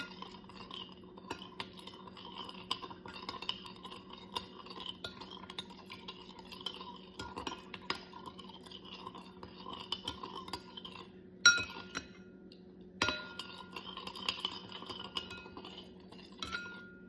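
A utensil stirs salt into vinegar in a glass, giving repeated light, faint clinks and scraping taps against the glass, with a short pause partway through before the stirring resumes.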